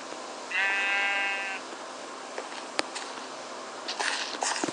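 A single clear sheep bleat sounds in a Minecraft-style video game, one wavering tonal cry lasting about a second over a quiet background hiss, followed by a sharp click and a few soft taps.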